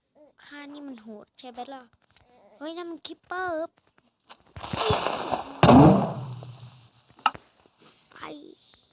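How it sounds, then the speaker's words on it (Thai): Voices talk excitedly, then a loud burst of Minecraft creeper explosion noise erupts midway, with a sharp crack and a hissing decay fading over a couple of seconds. "คิปเปอร์แม่งระเบิดแรงขึ้นเนาะ"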